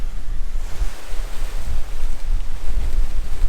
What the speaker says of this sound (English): as you can imagine, the wind is really blowing.